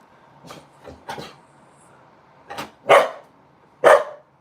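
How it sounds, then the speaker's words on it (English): A female husky gives a series of short barks and yowling vocalizations, spaced irregularly, the last two louder and close by. "You're barking. You're not talking."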